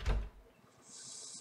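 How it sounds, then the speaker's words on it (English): An apartment door in a creepy horror video game swings shut with a heavy thud, followed by a faint, drawn-out hiss trailing off. "Oh, I almost forgot to close my door."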